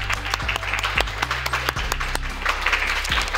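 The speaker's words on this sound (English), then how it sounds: "Please give them a round of applause." An audience at a student ambassador graduation ceremony applauds, a sustained patter of claps with some sharper individual hits, mixed with a low steady tonal hum underneath.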